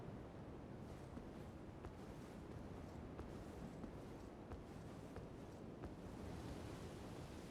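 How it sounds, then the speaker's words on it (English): Soft, steady ocean ambience in the dark Everjail area of Elden Ring: a low, continuous wash of surf-like noise with faint wind, quiet and unbroken, with no voices. "You can hear like the ocean and everything."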